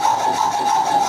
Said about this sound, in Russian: потом поработаем напильником